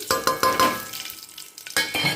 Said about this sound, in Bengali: এদিকে তোমার জিরে আর তেজপাতা তো আমি প্রেশার কুকারেই খিচুড়িটা করব তো চলো ফোড়নটা দিয়ে দিই